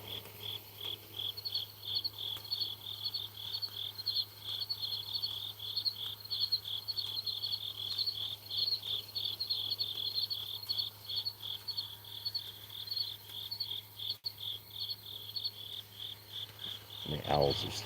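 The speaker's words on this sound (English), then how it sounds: "crickets are chirping again." Crickets chirp at night outdoors in Oklahoma, a steady pulsing trill that continues throughout over a low background hum, with a brief louder sound near the end.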